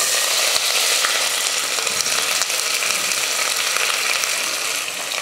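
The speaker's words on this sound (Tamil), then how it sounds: "வெங்காயம் நல்லா கலர் மாதிரி வதங்கிடுச்சு" Onions sautéing in hot oil with cinnamon, star anise, cloves, cardamom and bay leaf give a steady, close sizzle with faint scraping and clicking from stirring, continuous throughout with no talk.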